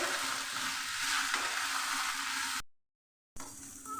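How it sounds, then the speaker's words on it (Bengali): Bottle gourd shoots, potato and onion fry in a pan, a steady close sizzle with stirring, broken by a brief silent cut before frying resumes. "লাউয়ের ডগি আলু পেঁয়াজ আমি দু মিনিট ভেজে নেবো"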